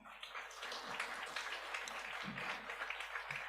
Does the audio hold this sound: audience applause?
yes